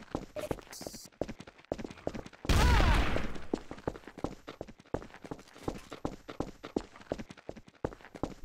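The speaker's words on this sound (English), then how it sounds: "Shooting a gun, doo doo doo doo." Steady gunshots in Garry's Mod, a regular run of sharp, evenly spaced cracks over several seconds, with one louder, longer burst near the start that rises above the rest.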